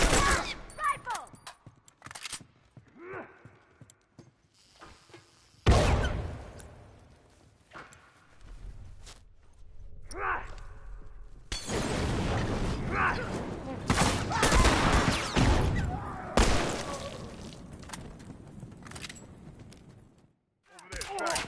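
Rifle fire in a shooter video game rings out as sharp cracks and dense volleys. Quieter pauses break up the shooting, and voices speak between the bursts.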